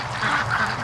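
A large domestic free-range duck, about five pounds, gives two close, loud quacks in quick succession with no talking.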